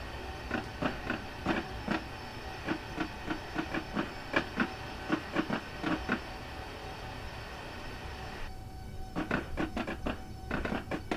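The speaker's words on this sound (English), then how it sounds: "This train's pretty quiet, but it is electric." Electric high-speed train running along a route in the Train Simulator 2018 game, a steady quiet hum and hiss broken by repeated rhythmic clicks and rattles of wheels over rail joints throughout, with no talk.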